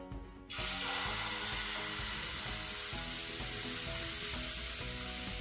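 Butter sizzles loudly in a hot oiled pan, a sudden steady frying hiss that starts half a second in and carries on evenly to the end, with no voices.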